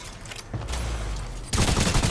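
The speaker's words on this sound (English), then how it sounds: "I'm shooting the wall out." Gunfire in a team shooter game tearing out a wall: dense, continuous rapid shots forming a harsh roar that jumps louder partway through, close and unbroken, with no clear talk.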